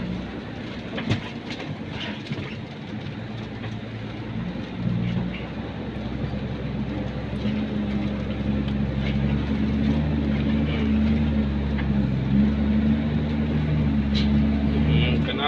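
A Fuso truck's diesel engine drones steadily from inside the cab while a ten-speed gearbox is worked through, a deep continuous rumble that swells slightly in level, with someone talking over it.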